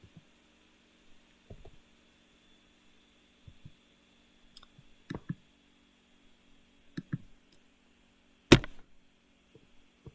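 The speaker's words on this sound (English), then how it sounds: "So I just literally punched my keyboard." Computer keyboard struck and tapped at a desk during a coding session, a scatter of sharp, brief clicks and knocks spaced irregularly, with one louder hit near the end, over a faint electronic hum.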